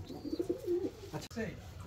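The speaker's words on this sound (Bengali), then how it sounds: "ভাইয়ের কবুতরগুলো অনেক সুন্দর, সবই রাজশাহী গিরিবাজ আর ঘনবাজির কবুতর" Soft, low cooing of Rajshahi Giribaj pigeons close by, a few rounded coos in quick succession, with faint voices murmuring in the background.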